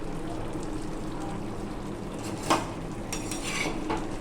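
Three rotis go into a pan together for cooking: a low, steady sizzle and scraping under one sharp metallic clunk midway, then a brighter hiss of frying toward the end, close by with no talking.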